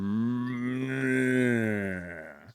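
A cow gives a single long, loud, close moo that holds steady for over two seconds before trailing off, heard alone with no talking.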